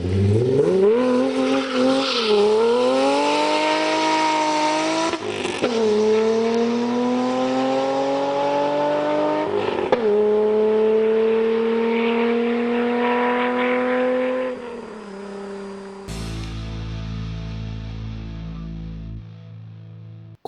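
A V-engine car revs hard, pitch sweeping up and falling back through several loud, sustained pulls with sharp shifts between them, then dropping to a lower, steadier engine note near the end.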